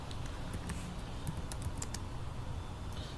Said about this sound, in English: you can start typing